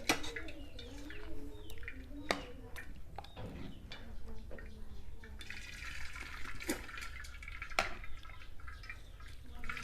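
Black plum juice pours through a strainer in a steady liquid trickle with occasional drips, and a voice talks faintly in the background.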